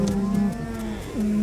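A cow moos in a long, deep, steady low call during a cattle drive on a road in the USA. The sound is close and loud and rises slightly at the end, with no talking.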